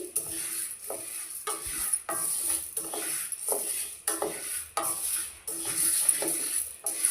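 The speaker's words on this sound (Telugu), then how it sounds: "ఇది వేయించడానికి చాలా టైం పడుతుంది ఎందుకంటే మనం స్టవ్ సిమ్లో పెట్టుకొని వేయించుకోవాలి" Ingredients for sunnundalu, Telugu sweet laddus, are stirred and dry-roasted in a pan over a low flame: a steady scraping of the spoon against the metal, with soft sizzling and occasional light clinks, close and continuous with no talking.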